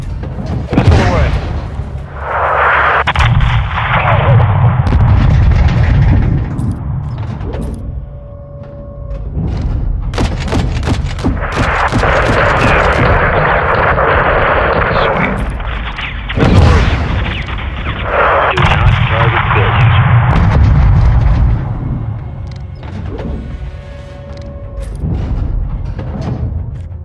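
Missile strikes hit a convoy in Call of Duty Modern Warfare, heavy booms and thuds rolling through over a long stretch, with bursts of gunfire and radio chatter between the blasts.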